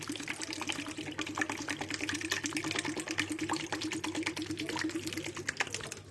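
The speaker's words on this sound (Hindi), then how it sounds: "ये देखें, दूसरे बोल में पानी डाल रही हूँ मैं।" Water pours steadily into a second bowl in a home kitchen while fish is being cleaned, a continuous close splashing and trickling that runs evenly throughout with no talk.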